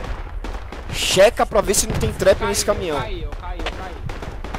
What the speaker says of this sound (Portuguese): Nossa, tá muito tiro, hein?